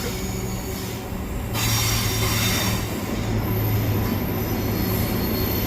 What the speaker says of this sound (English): Our next train of the day is 70805 with 6 Julia 37, 6 J 37 from Carlisle Yard